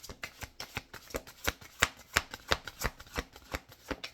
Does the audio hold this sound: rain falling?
no